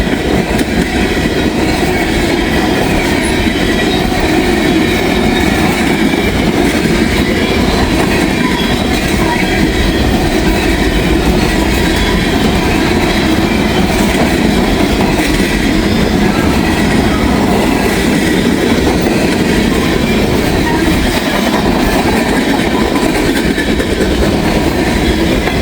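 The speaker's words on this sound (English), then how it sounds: "This is a monster train. This thing's still coming." A long freight train passes close by in a steady, loud rumble with rhythmic clickety-clack of wheels and occasional squeals, continuing without a break.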